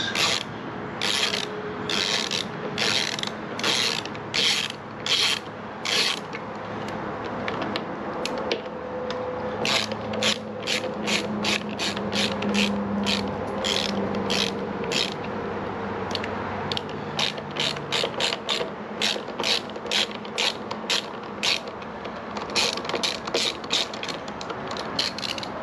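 A ratchet wrench with a 10 mm socket removes the air box on a Husqvarna HU 700F mower, giving rapid bursts of sharp ratcheting clicks between pauses, close and loud over a low rubbing rumble.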